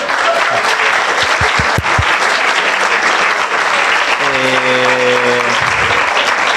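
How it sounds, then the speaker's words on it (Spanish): Loud, steady applause from an audience at a talk, a dense wash of many hands clapping, with a brief held tone sounding over it near the end. "Aplausos, chicos."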